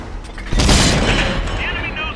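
Tank cannon firing in the World of Tanks video game, a single heavy boom followed by a rumbling, fading tail, loud and close, with game voice or speech present.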